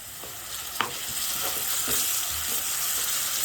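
Half a spoon of ginger garlic paste is mixed into mutton frying in a pan, a continuous close sizzle with a few sharp spoon scrapes and taps, no voices.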